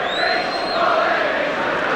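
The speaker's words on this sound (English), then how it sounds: "Good crowd in Wilderspool Stadium tonight for this." A large rugby league crowd packed into the terracing at Wilderspool Stadium, a continuous broad roar of many voices with a few rising shouts and whistles carrying over it, steady and distant.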